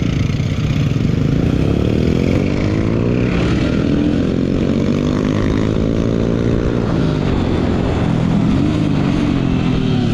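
A motorcycle engine runs loud and steady at close range, its harmonic drone rising and falling slightly as it idles and revs throughout, with no voices over it.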